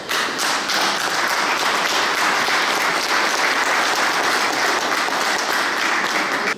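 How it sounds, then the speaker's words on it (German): Steady applause from a crowd at an energy festival in Wolfhagen fills the whole stretch, dense and even with no pauses. "Applaus"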